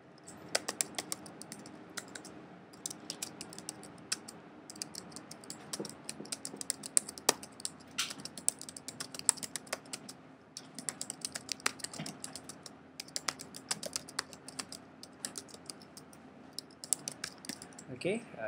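Fast, continuous clicking of keys on a computer keyboard, close and fairly quiet, with a few louder taps scattered through.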